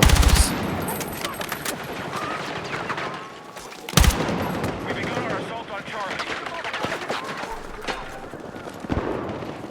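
Rapid bursts of automatic gunfire and sharp single shots crackle through a Battlefield 6 multiplayer conquest match, loud and dense with explosive impacts, while a player talks over the action.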